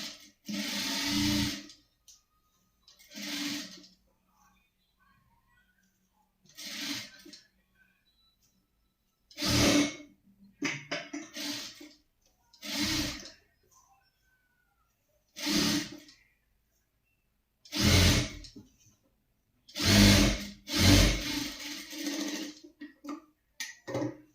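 A sewing machine runs a double seam in a series of short bursts of whirring, each lasting a second or two, separated by silent pauses.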